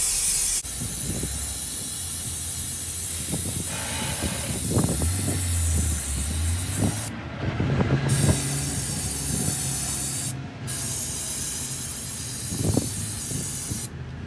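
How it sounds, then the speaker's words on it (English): An aerosol can of cleaning oil sprays in a long hiss onto a Husqvarna FC450 dirt bike air filter, broken by a few brief pauses and short bursts, with handling clatter underneath. "So spray on a little bit."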